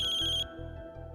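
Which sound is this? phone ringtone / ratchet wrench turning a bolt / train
phone ringtone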